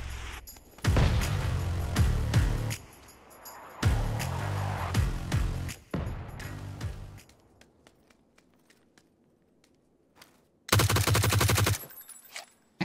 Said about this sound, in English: This gun actually sounds cool with a suppressor.